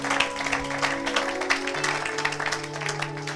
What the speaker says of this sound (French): Acclamez pour la gloire de notre Dieu et de notre Seigneur